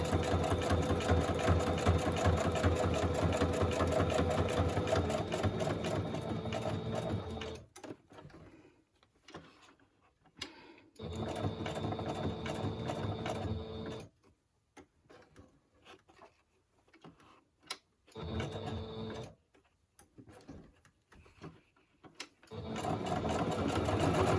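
Sewing machine stitching around corners with a needle slightly out of adjustment, a loud, steady mechanical whir in several bursts separated by short pauses as the fabric is turned.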